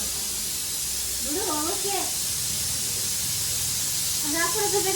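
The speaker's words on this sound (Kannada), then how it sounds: "ಏನು ಕುಕ್ಕರ್ ಕೂಗ್ತೈತೆ" A pressure cooker whistles in a home kitchen, a steady hiss running throughout with short rising whistle bursts, while people talk over it.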